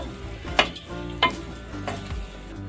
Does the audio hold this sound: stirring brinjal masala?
yes